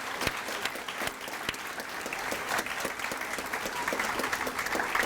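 An audience at a scholarship awards banquet applauds in steady, continuous clapping that fills the room and swells slightly toward the end.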